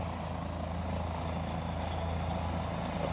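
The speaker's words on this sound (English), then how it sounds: "So we're gonna see, watch this helicopter." A helicopter working over wildfire operations in Wears Valley drones steadily, a continuous rotor thump and engine roar at moderate distance with no talk.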